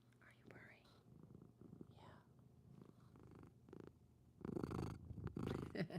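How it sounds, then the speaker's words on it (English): A cat purrs steadily, loudly and close up while someone whispers and speaks quietly over it, with some rustling near the end. "she's purring so loud"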